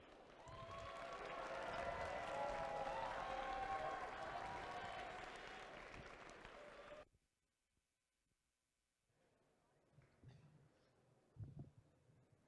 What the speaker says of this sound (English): So please welcome them with a warm round of applause.